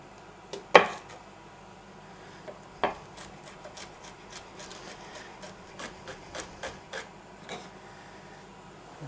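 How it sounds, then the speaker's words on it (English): A knife cuts celery finely on a board, a few sharp knocks at first followed by a steady run of light, quick taps and chops, close and fairly quiet. "I'll take one and I'll cut it nice and fine for my tuna salad"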